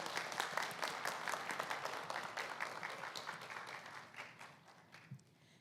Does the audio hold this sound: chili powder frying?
no